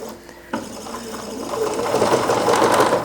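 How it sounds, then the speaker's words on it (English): A sewing machine with an even feed foot starts up after a brief pause and stitches a napkin steadily, a loud, close, continuous whirring patter. "we're just going to start sewing"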